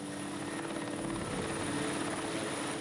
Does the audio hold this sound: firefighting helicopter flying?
yes